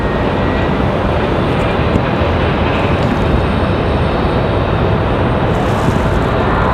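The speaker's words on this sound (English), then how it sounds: "Air France departure." An Air France airliner departing Raleigh-Durham International Airport, a loud sustained broadband jet roar that stays steady and heavy from start to finish, with no voices.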